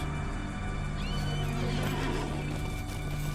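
A horse whinnies loudly over a dense, constant wash of background noise, with faint clattering underneath, in the game Lord of the Rings Online.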